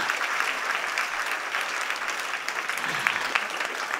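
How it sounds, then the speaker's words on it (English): An audience at a textile industry conference breaks into sustained applause, a dense, even wash of many hands clapping that holds steady throughout with no talking over it. "A big round of applause for them again."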